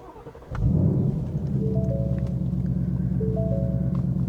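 A Ford Mustang Mach 1 with the 5-liter V8 fires up with a sharp starter catch, then settles into a deep, steady idle rumble close by, sounding alone with no talk.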